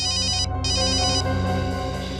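A telephone rings in a repeating electronic ringtone pattern, loud and close, with bursts broken by a brief gap and no talk over it, inside a police station setting.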